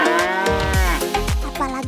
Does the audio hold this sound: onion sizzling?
no